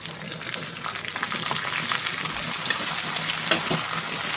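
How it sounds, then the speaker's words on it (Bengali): Chicken liver with ginger garlic paste fries in a pan, making a loud, continuous sizzle with crackling bursts and occasional stirring scrapes close by, with no voices. "আদা রসুনটা একটু ভাজা ভাজা হয়ে গেছে"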